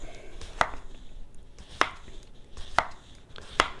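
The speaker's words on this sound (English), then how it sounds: "And then we're going to give this a nice slice, a nice thin slice. And just slice it all up." A knife slices thinly through a crisp cucumber for a fresh salad, giving four sharp, evenly spaced cuts against a board up close.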